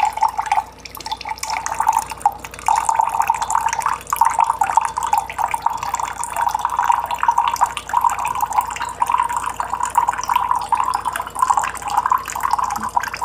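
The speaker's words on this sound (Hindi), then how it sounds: "ये जो वाटर आ रहा है बहुत ही फास्ट आ रहा है।" Water runs in a steady, fast stream from an RO water purifier that was earlier only dripping. The flow continues unbroken for the whole stretch, close and even, with no talk over it.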